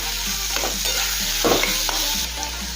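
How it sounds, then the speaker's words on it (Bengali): Steady sizzling of onions frying in hot oil over a medium gas flame, with a few clinks and scrapes of stirring over a constant background tone. "গ্যাসের ফ্লেম মিডিয়ামে রেখে পেঁয়াজ ভিজে নেবো"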